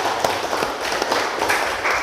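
Students in a classroom give steady, full applause, a continuous patter of many hands clapping together at close range with no talking over it.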